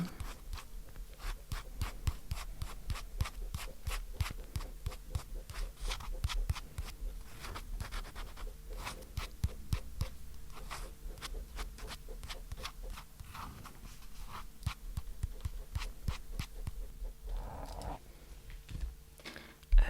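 A pen draws a feather on paper, scratching in a quick, steady rhythm of close, quiet strokes that continue throughout, with a slight shuffle near the end.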